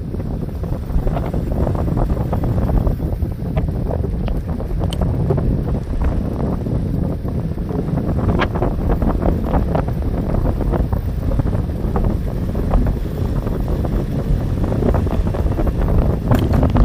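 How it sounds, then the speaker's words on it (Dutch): Strong wind blows by the sea at Perkpolder in summer, a constant loud rumble buffeting the microphone with no voices. "Hier staat de wind even centraal."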